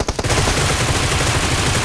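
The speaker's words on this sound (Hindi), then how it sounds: "पीछे से गोलियां चली" Rapid automatic gunfire rattles loud and close in the BGMI battle royale mobile game, a sustained burst after a few sharp opening shots, with no voices.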